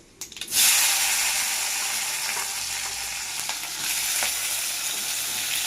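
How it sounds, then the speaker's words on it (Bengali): Tomato and onion dropped into hot oil in a wok with bay leaf and whole dried chillies, bursting into a loud, steady sizzle that continues evenly throughout. "এবার আমি একে একে দিয়ে দেবো টমেটো আর পেঁয়াজ"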